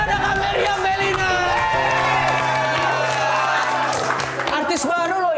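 A studio audience claps and cheers loudly for a newly introduced actress, a dense wash of applause with whoops and shouts, while a host's voice talks over it.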